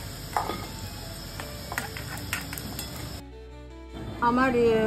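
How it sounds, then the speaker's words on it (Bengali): Pieces of taro and potato fry in hot oil in a pan with a low sizzle, with scattered clinks and scrapes as they are stirred, and a break near the end where the sound changes. "এবার আমি লাল লাল করে একটু ভেজে নিচ্ছি।"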